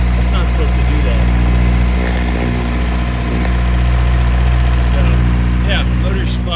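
A damaged, turbocharged 8th-generation Honda Civic engine runs at a steady idle up close, a dense low rumble with heavy harmonic vibration and some rough irregular noise, with faint talk in the background.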